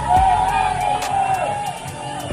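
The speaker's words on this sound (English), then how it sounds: "We have got ourselves a nice crowd out here tonight." A crowd at a boxing event cheers and whoops, a loud burst that eases into a sustained roar with a shouting voice rising above it.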